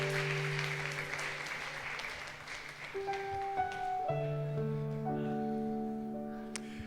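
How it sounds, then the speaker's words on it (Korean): A church congregation claps during a young adults' worship service, broad applause that fades as sustained instrument tones come in and linger underneath. "앞에 나오실 때 박수 한번 부탁드립니다."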